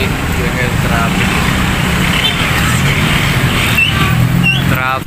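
Dense road traffic on a busy Valentine's Day evening, a continuous loud rumble of cars, buses and idling engines close by, steady throughout with a few brief horn-like tones near the end.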